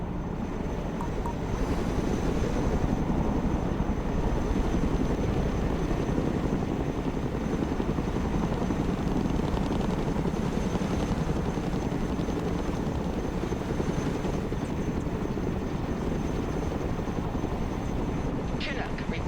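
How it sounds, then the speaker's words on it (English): A Chinook cargo helicopter in the real-time strategy game Broken Arrow flies low and slow. Its engines and rotors make a steady, heavy drone that holds for the whole stretch, with light game effects on top. "Let's go and recover it with our helicopter."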